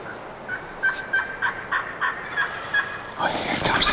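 A wild turkey gobbles outdoors in spring, a rapid run of repeated rattling notes at moderate distance, followed by a louder burst of rustling movement nearby.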